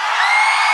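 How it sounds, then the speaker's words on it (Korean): An audience at a K-pop girl group showcase cheers with a dense, bright, continuous roar of screams, loud and unbroken for a brief moment. "함성 소리 너무 작은 거 아닙니까?"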